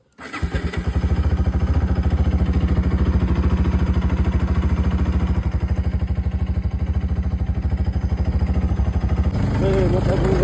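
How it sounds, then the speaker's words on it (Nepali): A motorcycle engine starts and then runs at a steady idle close by, loud and evenly throbbing for about ten seconds, with a slight change in tone near the end. "मेरो बाइकको साउन्ड सुन्नुहोस् कस्तो छ भने"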